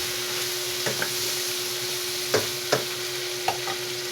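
Bitter melon (ampalaya) frying in a pan: a steady sizzle runs throughout, broken by a few sharp scrapes and taps of a utensil stirring, close and clear with no talking.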